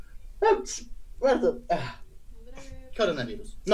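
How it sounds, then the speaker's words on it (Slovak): A man sneezes into his elbow between bursts of talk, the sneeze short and sharp against a quiet room, with speech before and after it. "som si kýchol do lakťa?"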